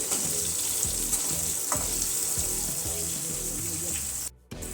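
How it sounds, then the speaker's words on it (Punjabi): Onions fry in a tempering for dry fruit rice, a steady close sizzle with rhythmic scraping stirs roughly every half second, then a brief cut near the end. "ਪਿਆਜ਼ਾਂ ਨੂੰ ਵੀ 2-3 ਮਿੰਟ ਵਾਸਤੇ ਤੜਕੇ ਦੇ ਵਿੱਚ ਭੁੰਨਾਂਗੇ"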